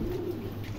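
A Mundian pigeon gives a brief, soft low coo close by, under light background noise.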